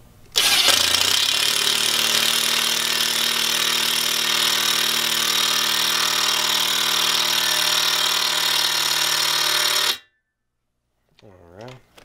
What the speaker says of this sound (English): now we'll tighten down our second bolt